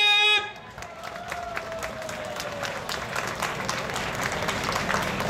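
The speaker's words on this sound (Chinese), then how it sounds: "热烈的掌声鼓励！" An audience applauding at the opening ceremony of a cultural festival, dense sustained clapping from a crowd that follows a sharp, brief start and holds steady under faint background voices.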